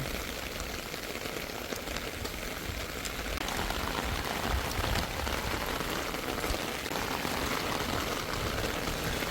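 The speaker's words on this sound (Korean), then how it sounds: "제주도는 오늘 오후에 비 오기 시작하더니 한 3시부터 와 장마처럼 와요" Afternoon rain falls steadily in Jeju, a dense, even hiss of drops hitting surfaces that holds at the same level throughout, with no voices.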